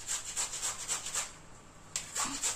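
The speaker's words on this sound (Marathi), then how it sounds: "कोवळा आहे, त्यामुळे बारीक किसणीने छान किसून घेणार आहे" Tender bottle gourd, skin still on, is rubbed against a fine grater in quick, even rasping strokes, close and quiet, with a short pause before the strokes resume.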